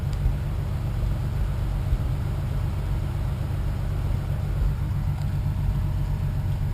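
A jeep rolling through a fast-food drive-through: a steady low engine rumble and road drone, close and constant, with no talking.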